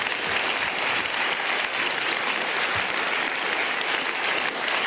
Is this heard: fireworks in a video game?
no